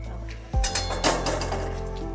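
A lid goes back onto a cooking pot of whole moong dal with a sharp metallic clank, followed by a few lighter clinks as it settles, close and fairly quiet.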